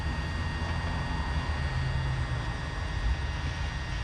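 A small DJI quadcopter drone hovers and flies overhead outdoors, giving a steady, fairly loud buzzing whir of propellers over a low rumble of wind for the whole stretch, with no talking.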